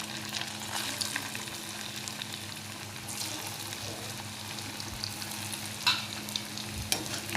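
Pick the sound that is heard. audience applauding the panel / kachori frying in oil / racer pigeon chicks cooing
kachori frying in oil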